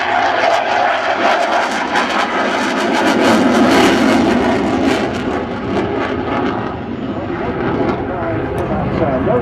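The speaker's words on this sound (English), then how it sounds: "He's rolled the aircraft inverted and pushing round this turn to show you the upper surfaces." Aerobatic airplane flying an inverted outside push at the Waddington Air Show, its steady engine drone sustained throughout under loud commentary from the announcer.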